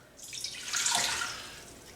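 Plain tap water poured into an Instant Pot pressure cooker, a steady splashing stream that swells and then tapers over two seconds, close and alone.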